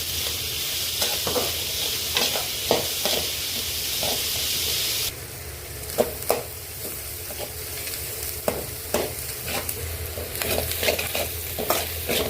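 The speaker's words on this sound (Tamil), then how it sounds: "இப்போ நம்ம இது நல்லா ப்ரௌன் ஆகுற வரைக்கும் நம்ம ஃப்ரை பண்ணிகிட்டே இருக்கணும்." Salted ingredients fry and sizzle in a pan for a West Bengal style chicken gravy, with close, repeated stirring scrapes over a continuous hiss that drops slightly partway through.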